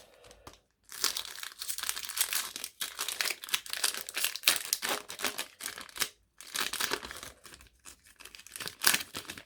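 Crinkly foil wrapper of a card booster pack being torn open and crumpled up close, in several bursts with short pauses between, no talking.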